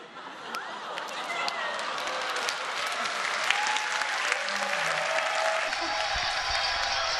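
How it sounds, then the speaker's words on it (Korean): An audience claps continuously at the close of a talk, a dense, steady roar of applause that holds at an even level, with a voice faintly audible over it. "이야, 박수."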